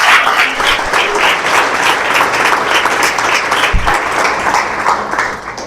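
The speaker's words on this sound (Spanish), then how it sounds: "Aplaudo al Señor, pues aplaudo al Señor porque eso es importante." Congregation applauding during a church service, dense steady clapping from many hands filling the space continuously and loudly with no talk over it.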